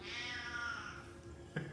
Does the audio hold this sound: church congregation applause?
no